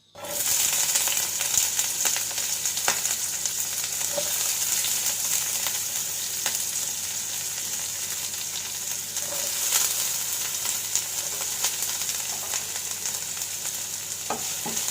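Steady frying sizzle as a medium onion cooks in hot oil, with a broad hiss that holds throughout, with occasional clinks of stirring over the crackling oil.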